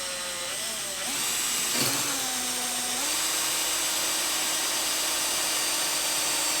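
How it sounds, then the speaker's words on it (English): A power drill runs steadily while holes are drilled to mount racing seat brackets, its whine shifting pitch a few times in one continuous close burst with no talking. "And then we're gonna start drilling."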